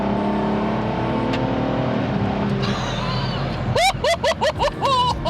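A Ferrari LaFerrari, driven on a road, gives a sustained close engine drone, then revs hard in a series of rapid rising and falling high-pitched bursts over the last seconds, with some voice underneath.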